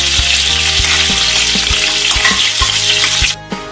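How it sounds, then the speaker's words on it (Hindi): Paneer pieces frying lightly in hot oil for a kadhai paneer, a loud dense sizzle close up with regular low thumps and scrapes of stirring, ending in a sudden drop near the end; no speech. "लाइटली फ्राई करनी है, बहुत हल्की, बहुत ज़्यादा फ्राई नहीं करेंगे"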